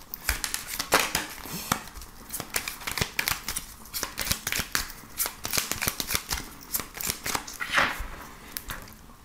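Gilded Reverie Lenormand oracle cards are shuffled by hand in a steady run of quick riffling and flicking bursts, close and fairly quiet, with no talking.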